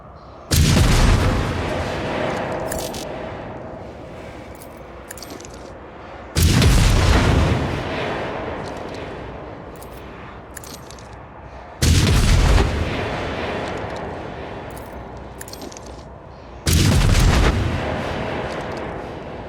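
Four heavy grenade explosions in the video game Warhammer 40K Rogue Trader, each a loud, close boom followed by a long rumbling tail, spaced about five seconds apart.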